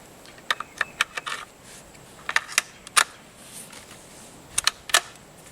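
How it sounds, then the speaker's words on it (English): The bolt slides into a rimfire rifle with a series of crisp metallic clicks and ticks, grouped in short clusters, close up and with no talking. "We're going to put the bolt in."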